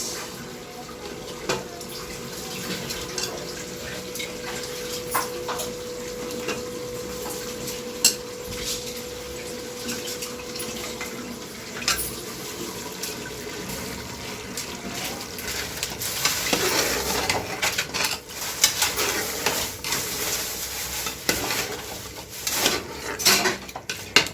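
Soaked basmati rice for a mushroom biryani tipped into a cooking pot, giving close, busy kitchen clatter with wet rustling and metallic clinks over a steady background hiss, with no voices.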